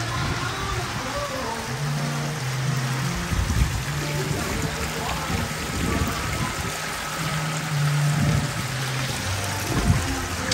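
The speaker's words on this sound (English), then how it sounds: "Show you this little waterfall." A small waterfall at a luxury resort pool home's patio in Lake Havasu trickles and splashes in a steady, close watery hiss, with someone talking over it.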